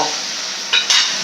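Vegetables stirred and sautéed in a pan for a prawn pepper fry, a steady broadband sizzle with two short louder bursts of stirring near the end, close and alone.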